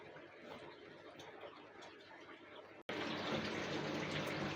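Water from a fish spawning tank for glofish tetras is poured out in a steady, close, gushing stream that briefly cuts out and then comes back louder.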